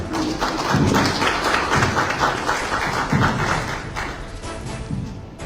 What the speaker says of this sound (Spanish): un fuerte aplauso para su alcalde